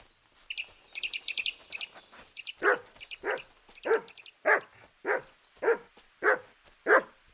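A dog in Kingdom Come: Deliverance 2 barks in a steady run of about eight sharp, evenly spaced woofs, after quick bird chirps that twitter at the start.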